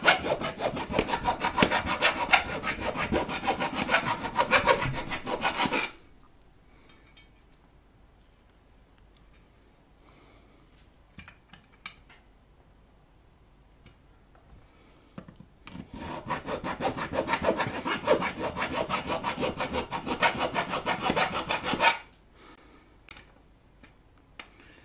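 A drill bores into the chassis of a Keritech DD-12 "Dirty Dozen" amplifier in two long, steady, close bursts of grinding, separated by a quiet pause.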